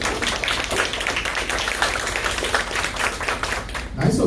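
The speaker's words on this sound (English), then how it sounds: "Nice ovation from the crowd here at Green Fair." A crowd at a live podcast recording in a restaurant in Reston, Virginia claps steadily in a dense, even patter that fades at the close, and no one speaks over it.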